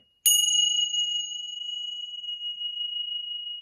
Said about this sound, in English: So there's going to be a bell ring.